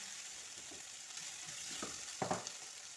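Tteokbokki rice cakes frying in a pan with a sauce of tomato, soy sauce, sugar and garlic give a steady close sizzle, broken near the end by a few sharp utensil clinks and scrapes.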